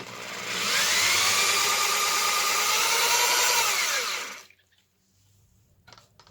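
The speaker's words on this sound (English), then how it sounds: "It wants to be drilled out a little bit more" A power drill boring out a washer on a VW Squareback door, a close, steady high whine held for about four seconds before spinning down and stopping, followed by faint clicks and handling noises.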